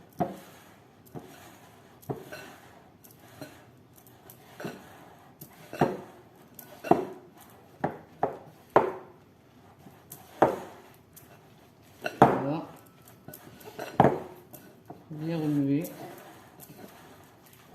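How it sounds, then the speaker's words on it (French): A spoon stirs a thick leek batter made with flour and yeast, giving regular soft knocks and wet scrapes against the bowl, with a voice talking in between. "Je remue."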